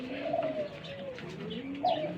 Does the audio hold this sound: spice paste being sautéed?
no